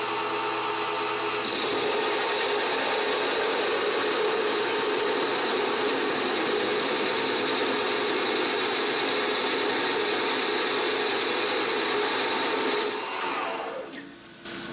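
A CNC lathe faces a part spinning at about 600 RPM, producing a loud, continuous broadband machining whir with a steady tone that runs throughout and shifts slightly near the end.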